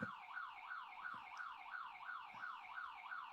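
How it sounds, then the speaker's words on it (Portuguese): An alarm going off nearby, a steady warbling electronic siren that rises and falls in rapid repeating sweeps, loud and continuous with no talking over it. "Tem um alarme disparado aí."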